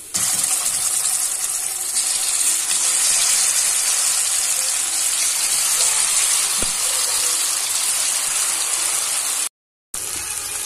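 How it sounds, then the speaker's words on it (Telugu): Marinated chicken tikka pieces fry in hot oil, giving a loud, steady hiss and sizzle that holds throughout before a sudden brief silence near the end. "ఇప్పుడు మనం ముందుగా కలిపి పెట్టుకున్న చికెన్ పీసెస్ అనేవి ఫ్రై"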